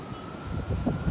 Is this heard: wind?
yes